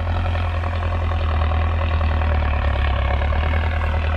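Deep, steady rumble of a Belarus 1025 turbo tractor engine running continuously at close range, with a heavy low throb and no voices.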